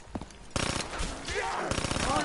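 Machine gun fire in the Call of Duty Black Ops 3 zombies mode: rapid bursts of shots, loud and close, running through most of the moment, with a voice talking briefly before them.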